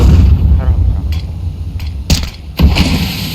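A flashbang grenade goes off in a Counter-Strike match between Vitality and FaZe at the Budapest Major final, a loud low rumbling blast followed by sharp cracks of game fire, with voices in the background.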